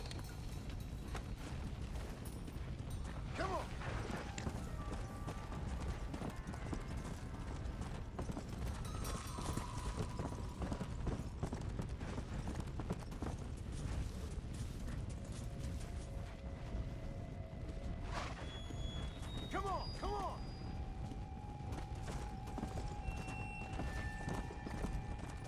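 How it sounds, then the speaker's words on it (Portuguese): Horse hooves clip-clop steadily through a Red Dead Redemption: Undead Nightmare game scene, a continuous rhythmic trot over dense ambient game sound with occasional whinnies. "Cadê meu cavalo?"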